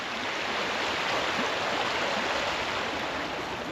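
Constant broadband rush of stream water flowing over stones beside a hiking trail, close and steady with no talking.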